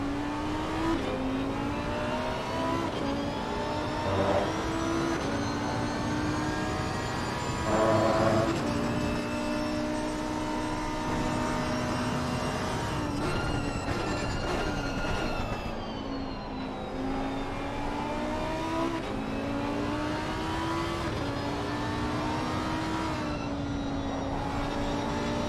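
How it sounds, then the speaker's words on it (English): Lamborghini mid-engine GT3 race car in Assetto Corsa Competizione at Kyalami, its engine note rising and falling through gear changes, loud and continuous with other GT3 cars audible around it, no talking. "There's just something about a Lambo sound that just makes it, sadly, sound way better than an Audi."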